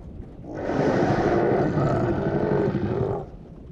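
Deep, guttural dinosaur roar from a T. rex-like creature in an Unreal Engine game set on an island, a single sustained growling bellow lasting about three seconds, loud and close over a faint background.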